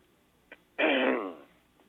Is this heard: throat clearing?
yes